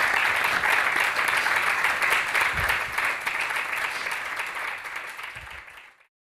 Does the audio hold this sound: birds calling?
no